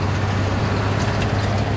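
A loud, rough 1951 Chevrolet farm truck engine idles and rumbles steadily with a low droning exhaust throb, close by and continuous.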